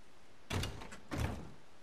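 Two short, soft thuds of a door opening in the video game Days Gone, a locked building door finally giving way, heard close and quiet with no talk.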